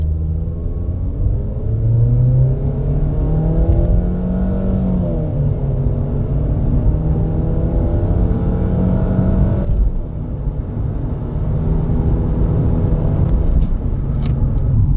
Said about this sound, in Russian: если мы будем ехать в D-режиме, благодаря вот именно этой настройке, получается совсем другая динамика разгона